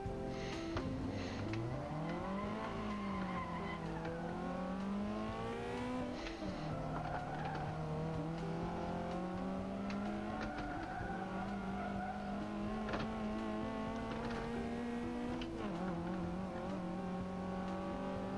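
Car engine in Assetto Corsa revving steadily over track bumps, its pitch rising and wavering as the revs bounce, with occasional tire squeal; loud, close and continuous with no talking.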